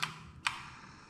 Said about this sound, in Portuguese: E aqui ele gira, ó, com catraca